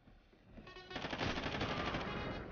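Rapid automatic gunfire from a gun fired from the hip in Call of Duty: Ghosts, a dense, steady stream of shots building up after a brief lead-in and continuing for about two seconds.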